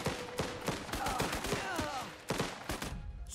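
Rapid bursts of gunfire from the video game Last Train Home crack out in irregular volleys, several sharp shots close together with brief gaps between them, loud and close.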